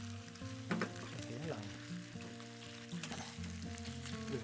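Ground pork fries with garlic in a pan, a steady close sizzle with occasional stirring clatter from a spatula.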